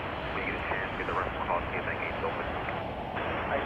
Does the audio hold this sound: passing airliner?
yes